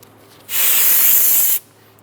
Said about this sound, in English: Using a brake parts cleaner, I'm going to spray a rag